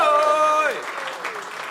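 Audience applause at a live stage comedy show, a brief wash of clapping rising under a sustained musical or vocal tone that fades out, with the crowd noise continuing softly afterward.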